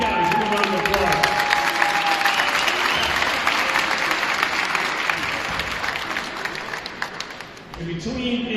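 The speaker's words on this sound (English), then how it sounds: "Give him a round of applause." A crowd at a ceremony honoring a school coach applauds steadily and loudly, dense clapping sustained throughout before fading slightly near the end.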